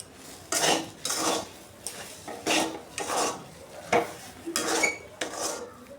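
Repeated scraping and clinking of a utensil against a metal pan while stirring blended lentil paste, in regular bursts about every half second to second, fairly close, with no voices.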